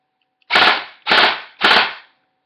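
An airsoft gun with a properly shimmed V3 gearbox, full metal tooth piston, stock spring and 18:1 gears, running on an 11.1 volt lipo, fires three sharp, loud, evenly spaced shots close up.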